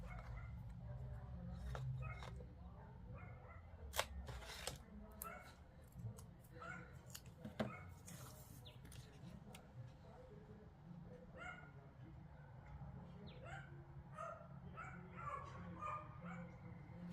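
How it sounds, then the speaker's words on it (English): Dogs barking inside a house, led by a small dog named Princess Jasmine: repeated sharp yips and barks in irregular bursts with some whimpering, fairly close, under quiet talk. "Guess who's barking in the house?"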